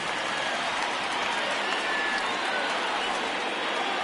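Steady, dense roar of a baseball stadium crowd in a PS4 MLB game, rising for a full count, loud and constant with no break.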